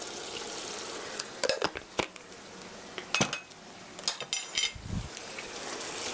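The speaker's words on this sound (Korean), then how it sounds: "이렇게 이제 간장과 설탕이 약간 캐러멜라가 되게 5분 5분 정도 볶아주세요." Sweet bean paste cooks with soy sauce and sugar in a pan, stirred so it fries and caramelizes, giving a continuous close sizzle punctuated by several sharp scrapes and knocks of a utensil against the pan.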